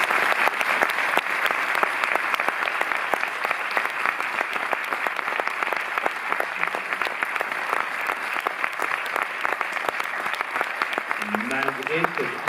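Audience at a Cinémathèque talk in Paris applauds steadily and loudly for the whole stretch, a dense, sustained clapping with a brief voice near the end.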